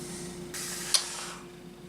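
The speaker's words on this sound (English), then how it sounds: "XF7 flat red in the airbrush. So I am going to go and spray this" An airbrush spraying XF7 flat red paint onto a Revell Colonial Viper MkII model kit, a soft, steady hiss that begins partway through, with a small click near the middle, in a quiet room.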